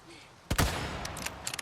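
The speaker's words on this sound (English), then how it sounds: "these two guys, you can actually get 2 free headshots" A burst of gunfire from a Resident Evil 4 Remake headshot sequence: a sharp loud shot followed by a few quicker, fainter cracks and rattles, close and alone.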